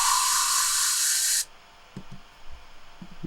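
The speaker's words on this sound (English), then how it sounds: "It's just like a white noise riser." A white noise riser in a pop remix production plays as a loud, bright burst of broadband hiss that cuts off abruptly after about a second and a half. Quiet low thumps and faint room noise follow.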